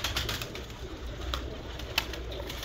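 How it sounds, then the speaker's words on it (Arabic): Pigeons of a flying breed coo softly at a moderate distance, with brief bird calls and a faint flutter standing out over steady low background noise. "هذا من أنواع الحمام الطيار"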